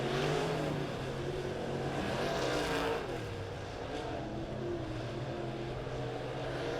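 Dirt late model race cars roar around Springfield Raceway in a heat race, engines droning loud and continuous with rising and falling revs as the pack passes, a dip midway before the roar resumes.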